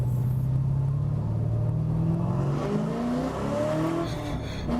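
A V8 race car on a hot lap around a circuit, heard from the passenger seat: a loud, rumbling engine note rising steadily in pitch as it accelerates through the gears, close and continuous.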